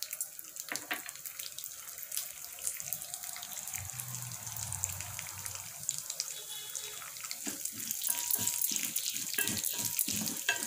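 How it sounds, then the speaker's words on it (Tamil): Mustard seeds and urad dal tipped into hot oil for a Tamil puli keerai kadaiyal, a soft sizzle with scattered crackles and pops growing denser toward the end, fairly quiet and close. "நம்ம இப்போ இந்த கடுகு உளுத்தம்பருப்பு போட்டுருவோம்."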